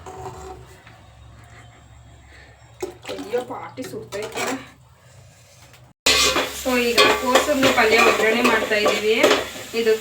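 Mustard seeds, onion and curry leaves crackle and sizzle in a hot pan, starting quiet and then bursting into loud, busy spattering partway through.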